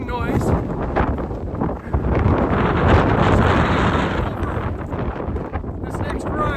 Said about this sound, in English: I'm sorry for all the wind noise.